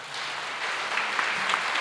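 Applause at the 2021 Witold Gombrowicz Literary Prize gala in Radom, a steady audience clapping that swells slightly partway through and keeps up evenly with no voices over it.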